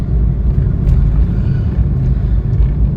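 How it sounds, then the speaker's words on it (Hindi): Heavy traffic on a Himachal mountain road gives a close, continuous low engine rumble and drone, steady and loud, with faint higher clatter on top. "ट्रैफिक यहाँ पर बहुत ज़्यादा है, इसलिए धीरे धीरे चल रहे हैं।"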